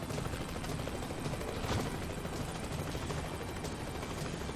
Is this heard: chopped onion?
no